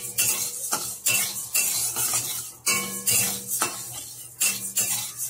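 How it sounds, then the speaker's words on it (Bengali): Moong dal being dry-roasted in a kadai (wok) until lightly reddened: repeated scraping and stirring clinks of a spoon against the pan in short bursts, with a soft sizzle underneath, close by and fairly loud, no talk. "ডালটা একটু হালকা করে লাল করে ভেজে নেব।"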